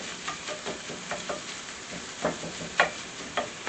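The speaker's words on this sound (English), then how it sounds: "we'll get this sausage cooked" Sausage sizzles in a frying pan while being cooked for savory fried pies, a soft crackling bed broken by irregular spits and pops, a few louder ones standing out.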